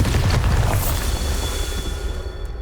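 A Bombarda blasting spell goes off in Hogwarts Legacy, a loud booming explosion that rumbles at the start and decays over a couple of seconds under a lingering high ringing tone.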